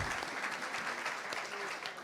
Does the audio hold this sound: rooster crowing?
no